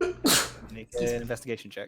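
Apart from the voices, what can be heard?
sneeze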